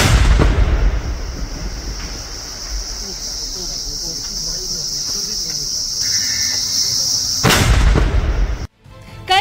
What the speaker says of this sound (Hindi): देखिए ये धमाका कितना खौफनाक है